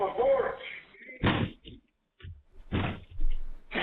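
A door being forced and slammed, played back from a video: several heavy, broadband thuds and bangs separated by pauses, with muffled speech-like sounds in between.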